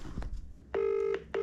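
Telephone dialing tones, two steady beeping tones each ending in a short click, with soft handling noises just before, close and clear with no talk.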